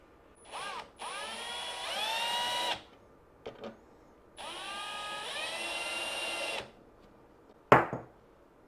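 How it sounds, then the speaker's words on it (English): Milwaukee M12 FUEL drill whining through a hinge in several bursts, each winding up in pitch and holding, with short pauses between and a brief clack at the end, close and clear without talking. "we'll drill it going in so you guys can see what we're doing"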